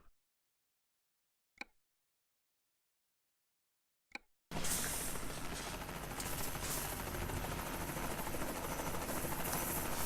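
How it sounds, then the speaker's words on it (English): In Euro Truck Simulator 2 driving through Brazil, a helicopter thunders overhead, its loud continuous rotor roar starting abruptly after a few quiet seconds broken by short clicks. "There's a lot of places in Brazil they've got choppers overhead."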